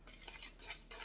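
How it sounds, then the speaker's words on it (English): A gravy whisk stirring apple dump cake batter, quick soft swishing strokes in a rapid rhythm, close but quiet, with no talk. "And take my gravy whisk."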